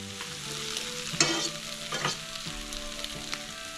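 A flour roux cooks in a pan, giving a steady close sizzle broken by scraping stir strokes and a few louder clatters, with no one speaking.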